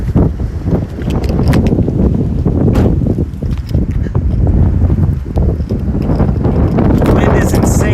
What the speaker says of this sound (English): Wind is insane right now.